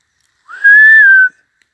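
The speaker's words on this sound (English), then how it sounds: "just heard a whistle." A single clear whistle on a forest trail, a smooth rising-then-level tone lasting under a second, close and fairly loud with no talk over it.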